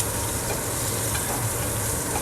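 Meat sizzling and spitting in a hot pan as it is basted with its own rendered fat, a steady loud frying hiss with stirring and spooning noises close up, no voices.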